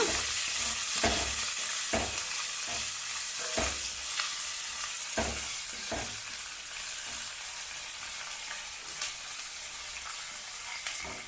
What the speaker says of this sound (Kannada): ಇಷ್ಟಾದಮೇಲೆ ಈರುಳ್ಳಿ ಹಾಕೋಣ ಈಗ ಈರುಳ್ಳಿ ಸ್ವಲ್ಪ ಕೆಂಪಾಗಲಿ ತುಂಬ ಕೆಂಪಗಾಗೋದೇನು ಬೇಕಾಗಿಲ್ಲ ಸ್ವಲ್ಪ ಎಣ್ಣೆ ಒಳಗೆ ಬಾಡಿಸ್ಕೊಂಡ್ರೆ ಸಾಕು